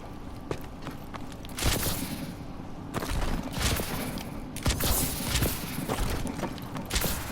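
An AK-12 rifle in Call of Duty Advanced Warfare fires in short, sharp bursts separated by pauses, fairly close and punchy over quieter in-game movement noise.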